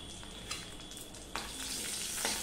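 Green chillies sizzle in hot mustard-style oil with black cumin and turmeric, a steady frying crackle with a sharper burst of spitting partway through, close and moderately loud with no talking.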